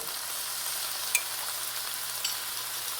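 Beef sizzles steadily in a pan as white wine cooks off, making a dense, even frying hiss with a couple of faint sharp pops and no voices.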